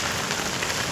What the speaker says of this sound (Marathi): बंद असण्याचं एकमेव कारण म्हणजे पाऊस आणि पाऊस.